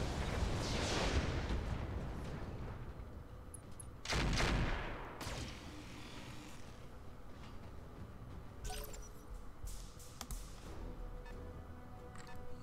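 Missiles launch in the combat game Roguepoint, opening with a loud whooshing barrage that fades out, followed by a sharp blast near the middle and scattered lighter impacts and clanks, heard far off and fairly faint.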